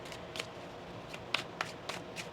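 Tarot cards shuffled by hand during a reading, a series of soft, brief riffling bursts at an uneven rhythm, faint and close, with no talking.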